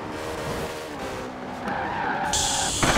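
A Ferrari LaFerrari slides on snow in Forza Horizon 4, its engine roaring loud and close with a long skid and tire squeal, then rising in pitch near the end.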